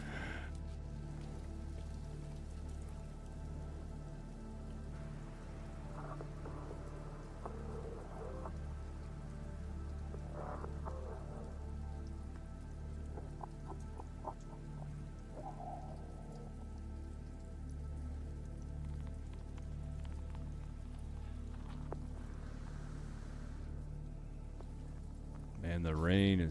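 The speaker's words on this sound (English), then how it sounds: "Man, the rain is killing me." Steady rain pours across an alien planet in the game No Man's Sky, a dense, even hiss of drops that runs unbroken throughout, with a faint voice now and then beneath it and a louder rattle at the very end.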